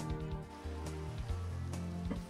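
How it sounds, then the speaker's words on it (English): Steady rain falls in the video game Minecraft, a soft continuous patter spread under louder low humming tones throughout. "It's raining."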